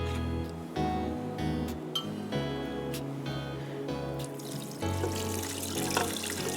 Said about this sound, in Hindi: एक कप मैंने डाला है पानी